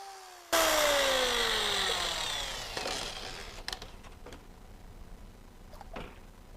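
A power drill mixing pottery glaze whirs loudly, its pitch dropping as it slows, followed by scattered clatters and knocks as things are set down.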